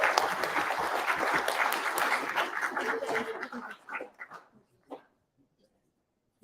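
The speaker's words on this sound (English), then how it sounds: "Can I get a big applause for him?" Applause at a hackathon opening ceremony, a crowd clapping steadily before it tapers off into scattered claps and then silence.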